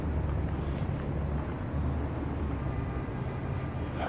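Very strong outdoor wind buffets the microphone in a constant, loud, roaring rumble that fills the whole stretch without letup, with no voices over it.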